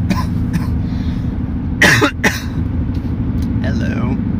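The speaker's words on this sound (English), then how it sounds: "I was coughing for a second, but I'm better now." A couple of sharp coughs stand out over the steady low hum of an idling minivan engine.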